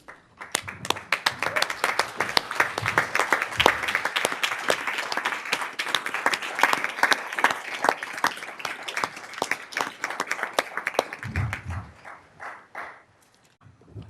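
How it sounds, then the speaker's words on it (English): A school district meeting audience applauding, dense sustained clapping from many hands that carries on for over ten seconds in a room before fading out. "We'd love to give you a round of applause."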